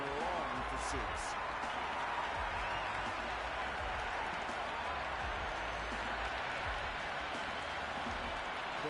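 A crowd at a cricket stadium during a close India versus South Africa T20 match, a dense, continuous roar of cheering and clapping that fills the whole stretch, loud and unbroken, with commentary running underneath.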